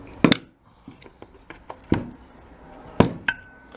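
A blown fuse is pried out of a multimeter, giving a few sharp clicks and small plastic-and-metal snaps scattered over a few seconds, close and fairly quiet.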